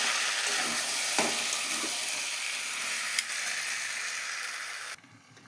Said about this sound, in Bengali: মাংসটাকে কষিয়ে নেবো ভালোভাবে